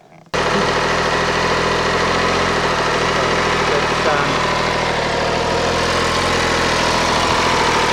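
An MV Agusta F3 800 motorcycle engine idles in neutral while still cold, a loud, steady, close rumble that starts just after a brief quiet opening and runs unchanged to the end.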